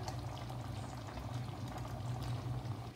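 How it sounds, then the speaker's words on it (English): Coconut milk pouring into a pan of warmed chickpeas and vegetables, a soft continuous liquid gurgle and bubbling, close and steady for a few seconds. "Build in some nutty flavor by adding the coconut milk."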